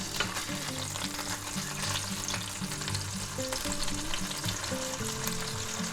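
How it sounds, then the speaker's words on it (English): Already cooked ham browns in a frying pan, giving a steady, close sizzle and crackle that fills the whole stretch, with a faint tonal hum underneath and no talking. "Now you can brown the ham as much as you want."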